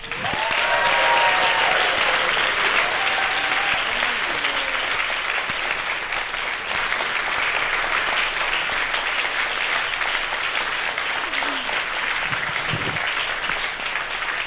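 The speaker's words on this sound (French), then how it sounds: "je vais vous demander un tonnerre d'applaudissements pour Johanna Bousler, s'il vous plaît." A long, thick burst of applause from a theatre audience during curtain-call thanks, steady and full for the whole stretch with a faint tonal sound early on beneath the clapping.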